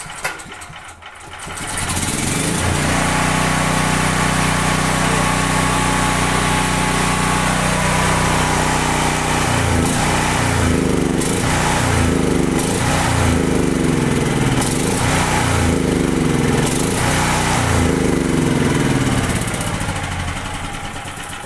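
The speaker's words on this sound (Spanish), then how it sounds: "Arrancamos el motor." A gasoline generator engine that is not producing voltage cranks and catches after a brief rustle, then runs loudly and steadily at a buzzing, lawn-mower-like pitch for the rest of the clip, with no speech.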